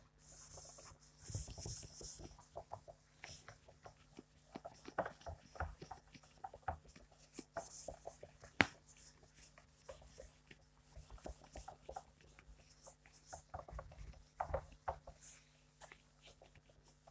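Marker or chalk scratches and rubs across a board during a classroom lesson, in scattered strokes and short bursts at close range, with a steady low hum underneath and no talk.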